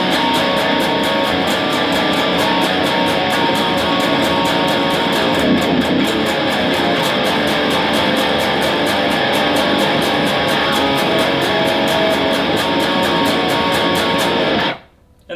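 An electric guitar runs through a Neural DSP Quad Cortex into a power amp, giving a dense, loud, heavily distorted rhythm that chugs steadily for about fifteen seconds before cutting off abruptly.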